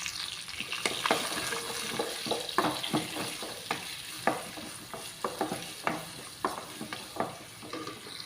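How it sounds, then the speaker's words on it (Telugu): Chopped onions and mustard seeds frying in a pan for a chickpea tomato curry, with a steady sizzle broken by repeated sharp clicks and scrapes of stirring, close and fairly loud. "ఇందులో నేనైతేనండి ఉల్లిగడ్డలు కూడా కట్ చేసుకుని ఉల్లిగడ్డలు కూడా వేసేసుకుంటున్నానండి ఇందులోని"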